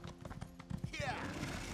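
Hooves clip-clop in a quick rhythm from a horse in a video game, fairly faint and mixed with soft mechanical game noises, and a brief neigh-like swoop follows.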